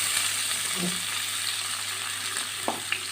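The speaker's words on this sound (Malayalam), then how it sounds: "അപ്പോൾ നമുക്ക് ഇതിലേക്ക് ഒരു ചെറിയ സവാള അരിഞ്ഞത്," Chopped onion sautéing with curry leaves and nuts in hot oil for tomato rice, a steady low sizzle with faint scrapes of stirring and a couple of sharp clinks near the end.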